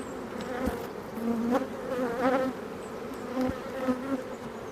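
Honey bees buzz around an open WBC hive during an inspection of calm bees, a steady close drone with wavering pitch and occasional louder passes as individual bees fly near.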